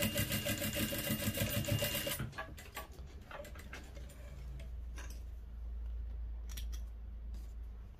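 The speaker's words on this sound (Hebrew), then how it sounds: "תופרים פה בצד גם 2 סנטימטר" A sewing machine stitching fabric for a small basket, a fast steady mechanical whir for about two seconds, followed by quieter clicks and handling of the machine and cloth.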